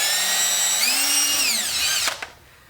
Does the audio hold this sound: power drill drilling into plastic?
yes